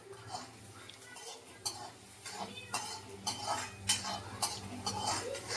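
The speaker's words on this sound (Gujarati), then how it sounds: "જો આવી રીતે આવા જ ચમચાથી હલાવશો તો શાકમાં મસ્ત ટેસ્ટ આવશે" A metal ladle scrapes and clinks against a pan of onions and okra masala in irregular strokes, steady stirring with occasional louder knocks and no talking.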